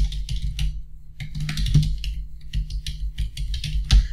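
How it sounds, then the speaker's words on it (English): Rapid clicking of keys on a computer keyboard, irregular bursts of typing with brief pauses, close and clear. "So I'm typing my email and password."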